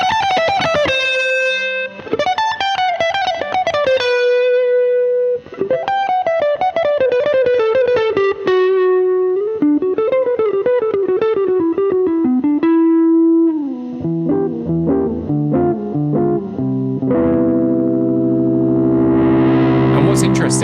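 Distorted electric guitar plays melodic lines and bends through effects with echo, its tone shifting as the volume and tone knobs are turned mid-phrase, ending in brighter strummed chords; loud and close with no talk.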